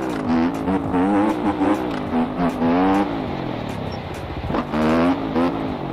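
A 160cc motorcycle engine revs in MX Bikes, a motocross video game, rising and falling in short bursts of acceleration, loud and close, with a brief lull before climbing again.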